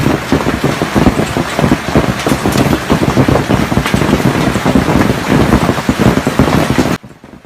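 Hail hammers the streets of Sichuan in a heavy storm, a dense, loud, continuous clatter of ice striking hard surfaces with no let-up until it cuts off abruptly near the end.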